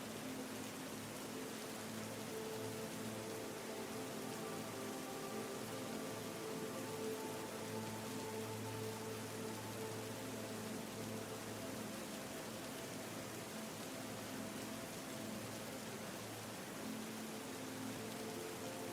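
Light rain patters on rocks around a cabin, a steady, soft wash of drops that stays even and constant throughout, with no voices.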